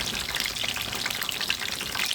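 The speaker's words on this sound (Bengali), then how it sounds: "এটা ভাজা হয়ে গেলে একটু ব্রাউন ব্রাউন কালার একটু করে ভেজে নেবো" Shapla (water lily) chops fry in hot oil with a dense, even crackling sizzle and scattered pops, heard close and continuous with no voices.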